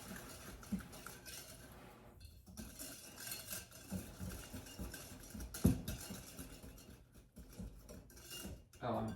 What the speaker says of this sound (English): I'm gonna stir that all in.